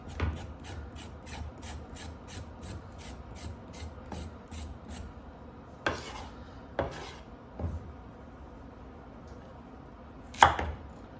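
A thin-bladed kitchen knife scrapes the peel off vegetables in quick, rhythmic strokes, close and fairly quiet, followed by a few sparser scrapes and knocks on a cutting board.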